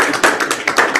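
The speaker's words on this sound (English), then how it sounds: "Give Michael a big round of applause" Audience at a training event claps, a short burst of loud, fast applause filling the room.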